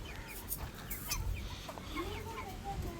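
A rooster and hens clucking in a village yard, with short irregular clucks and calls at moderate distance over a low background rumble.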